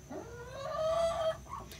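A Black Australorp hen gives a short, drawn-out clucking call close by, rising into a sustained squawk before breaking off, with a softer cluck trailing at the end.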